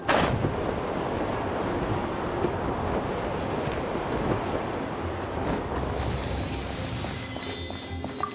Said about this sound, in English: Let's ride this wind current